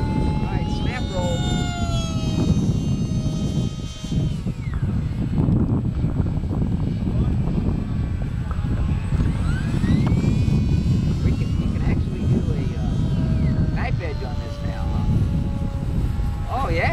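A small Parkzone F-27 Stryker electric RC plane whines overhead through a snap roll, its motor pitch sweeping up and down over a continuous outdoor background while people talk nearby.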